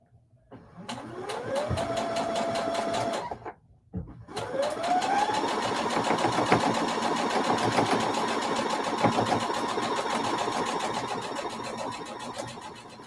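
A sewing machine whirs steadily, starting up, pausing briefly, then running continuously at a rising, even hum with a rapid mechanical rhythm.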